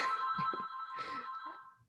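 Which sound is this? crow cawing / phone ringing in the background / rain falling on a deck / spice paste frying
phone ringing in the background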